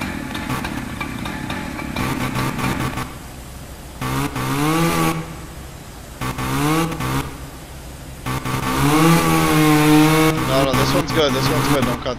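Chainsaw from the EmergeNYC firefighting game at a large commercial fire, its engine buzzing and revving in loud bursts throughout, with people talking over it.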